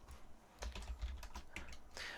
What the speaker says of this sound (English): here I'm actually manually typing in the slot name